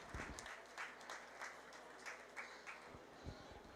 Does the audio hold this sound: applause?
yes